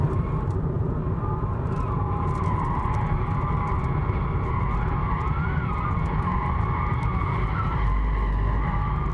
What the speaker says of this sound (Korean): 일단 지금 끼고 있는 타이어는 그 스키드음이 되게 크게 나네요, 고음으로.